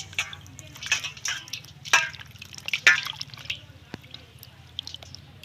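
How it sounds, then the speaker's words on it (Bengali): A pomelo is washed by hand in a bowl of water, giving irregular splashes and drips of varying loudness close up, with a few quieter trickles toward the end. "এবার আমি ধুয়ে নেব লেবুটা।"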